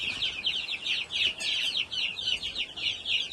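Chickens cluck in a coop in a steady series of close, rhythmic calls that rise and fall with no one speaking.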